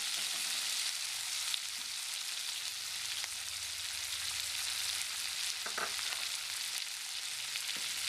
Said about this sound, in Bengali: কুচিয়ে রাখা পেঁয়াজগুলো দিয়ে দিচ্ছি, দিয়ে একটু ভেজে নেব।